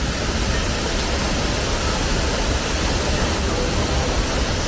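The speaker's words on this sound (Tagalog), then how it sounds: "Waterfalls." A waterfall in Hong Kong Park pours with a continuous, dense, broadband rush of falling water, loud and steady throughout with no distinct breaks.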